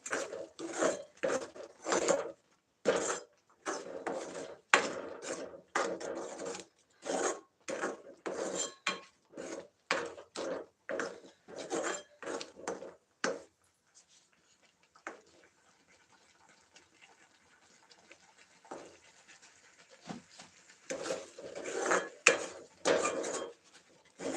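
Ground sugar and cardamom are stirred into a pan with a utensil, giving repeated scraping clatters in quick bursts for about thirteen seconds. Quieter shuffling follows, then a few more scrapes near the end, close by with no talking.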